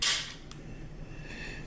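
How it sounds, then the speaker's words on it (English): A magazine is pushed into a Smith & Wesson M&P M2.0 pistol, putting the gun back in battery: one sharp, close metallic click at the start, then quiet handling noise. "you can simply just push a magazine in, and now the gun is back in battery"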